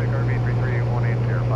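Steady propeller drone and engine hum inside the cockpit of a small airplane in flight, loud and constant throughout with a low tonal buzz and no pauses.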